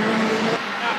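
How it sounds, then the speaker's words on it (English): Race cars at the start of a National 4s Queensland title final at Bundaberg Motorplex: loud, close engine roar with rising revs under an announcer's voice, a brief burst of dense racing noise. "Revs rise and away we go."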